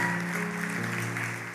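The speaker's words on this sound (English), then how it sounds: "can we just give him one last round of applause this morning?" A church congregation applauds Travis at a morning service, steady clapping running under sustained organ-like musical tones that hold throughout before easing slightly at the end.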